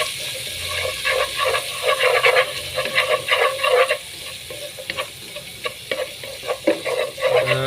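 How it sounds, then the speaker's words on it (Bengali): Shrimp sizzles and spits as it fries in a pan, with irregular bursts of crackling and stirring scrapes rising and falling throughout, fairly close and with no talk. "চিংড়ি মাছটা আমি একটু ভেজে নেব স্বাদে সুন্দর হওয়ার জন্য"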